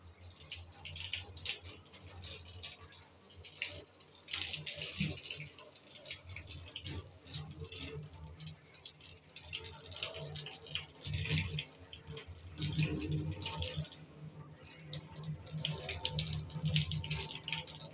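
Running water splashes steadily from a tap as hair is rinsed, a continuous close-up stream with shifting drips and gushes and some faint background voices.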